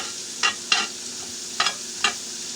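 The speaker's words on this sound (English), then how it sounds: "So I'm going to give that a nice stir." Spoon scrapes through homemade tomato soup in a pot, four short distinct strokes spaced irregularly against a soft steady background hiss, close and fairly loud.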